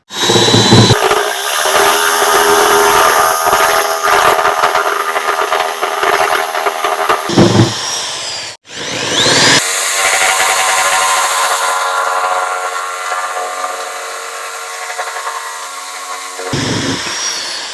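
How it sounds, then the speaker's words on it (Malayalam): A power tool blade cuts through a product in a loud, continuous grinding whine, broken by two short pauses where the cut stops and restarts, close and unbroken by any talk. "നമുക്കിത് ഒന്നുകൂടെ വേറൊരു ഭാഗത്തിട്ട് കട്ട് ചെയ്ത് നോക്കാം"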